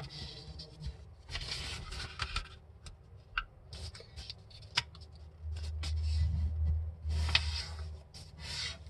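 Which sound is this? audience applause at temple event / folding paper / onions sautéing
folding paper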